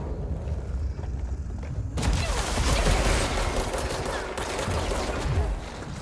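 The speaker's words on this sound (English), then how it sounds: "And he threw a grenade." Grenade blast in the video game Control amid dense gunfire and booming combat noise, loud and sustained with a sharp onset, no talk over it.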